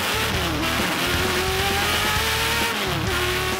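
A race car on a Portland track weaving to heat its tires, engine loud and steady with a droning tone that rises and falls, up close and continuous.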